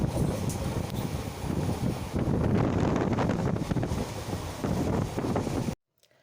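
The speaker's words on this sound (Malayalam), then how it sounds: "മലനിരകൾക്കിടയിലൂടെ ഒഴുകുന്ന കാറ്റിൻ്റെ ശബ്ദം അലയടിക്കുന്നുണ്ടായിരുന്നു" Wind blowing through the hills of Palakkad, Kerala: a loud, steady roaring buffet against the microphone that swells and lasts about six seconds before cutting off abruptly.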